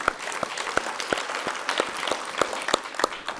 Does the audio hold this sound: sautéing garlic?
no